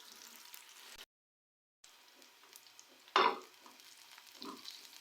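Whole cumin seeds and green chillies sizzle in hot oil in a pan for dhaba-style chana daal, a soft crackle broken by a brief gap and a sharp burst of frying as the chillies land.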